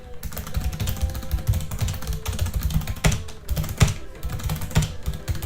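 Fast, steady typing on a Razer mechanical computer keyboard, dense clacking keystrokes close up for several seconds, with a few louder key hits and no talking.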